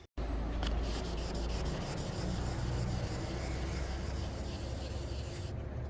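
Car paintwork is wet sanded with 2000 grit paper to flatten bird dropping etching, a steady close rubbing swish with rhythmic back-and-forth strokes that continue without pause.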